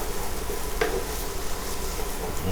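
Garlic sautéing with vegetables in a pan for a reversed shepherd's pie gives a steady, close sizzle, with a brief stir or clink near the start.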